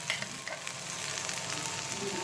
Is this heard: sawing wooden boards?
no